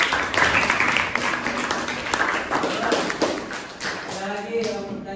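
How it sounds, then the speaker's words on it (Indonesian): An audience in a classroom claps together, with a brief scattered burst of hand claps over a low murmur of voices that fades toward the end. "Tepuk tangan buat kita semua."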